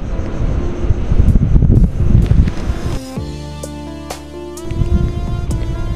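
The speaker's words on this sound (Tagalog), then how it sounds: "So pero mahangin." Strong wind buffets the microphone in loud, rumbling gusts, easing for a moment before blasting again.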